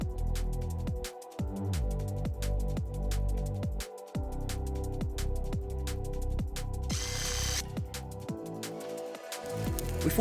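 Power tools ratcheting and whirring in repeated bursts while a crashed 2017 VW Golf GTI has its front bumper removed, close and steady with short pauses and a brief hissing burst near the end.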